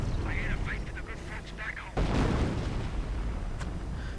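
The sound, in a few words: artillery fire in a WWII strategy video game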